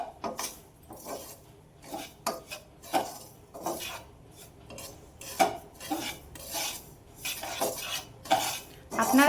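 Semolina being stirred in ghee in a pan: repeated scraping and clinking of a metal spoon against the pan in an uneven rhythm over a low, faint sizzle.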